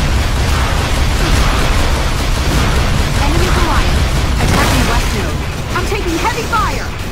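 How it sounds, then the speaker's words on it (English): An orb being destroyed in an Unreal Tournament 3 match sets off loud, sustained explosive bursts and crackling pops amid constant battle noise, with a voice speaking over the din. "Enemy orb destroyed."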